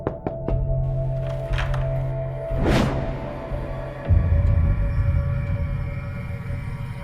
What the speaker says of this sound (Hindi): ये कौन दरवाजा पीट रहा है?